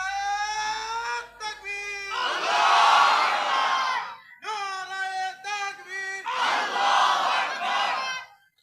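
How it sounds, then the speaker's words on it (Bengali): Crowd at a religious sermon gathering roars the takbir together twice, loud massed voices answering after a leading call, each shout swelling then falling away. "একজন শক্তিশালী পুরুষ তাকবীর দেন তো জোরে"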